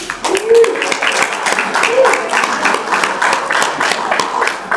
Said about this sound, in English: please give a big round of applause for Kabir